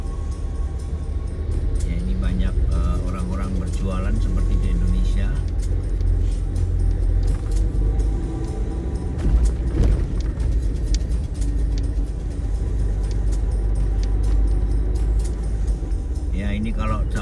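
Congested street-market traffic in a busy, crowded area on the route through Rio de Janeiro toward Suriname: a steady engine rumble of slow-moving vehicles with scattered clatter and jangling, heard close and continuous under a voice talking throughout.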